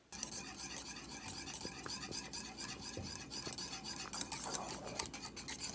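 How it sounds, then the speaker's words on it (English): A spoon rasps and scrapes through thick custard in a pot, soft continuous stirring strokes with occasional faint clinks, quiet and close with no voices. "stir the custard until thick and do not burn it"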